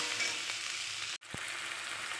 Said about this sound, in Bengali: মশলাগুলো দিয়েছি, আমি ভালো করে কষিয়ে নেব